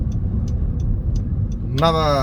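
Low, steady engine rumble from a Honda Civic being driven, constant and close inside the car, with faint regular ticking above it and a voice starting to talk near the end.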